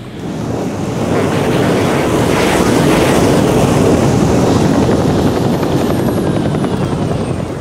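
A video-game helicopter's steady, loud rotor roar on a carrier deck in an Arctic mission fills the whole stretch, dense and continuous with a faint windy rush, no voices.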